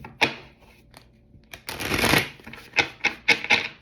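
Riffling bursts of a deck of cards being shuffled, a long ruffle in the middle followed by several quick sharp snaps, close and clear.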